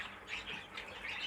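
A pet bird in a show cage gives a few short, raspy squawks at close range, repeating roughly every half second with no talking.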